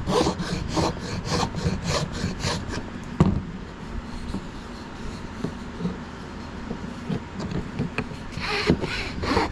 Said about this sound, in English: each file or piece of sandpaper is preparing it for the next less coarse grade.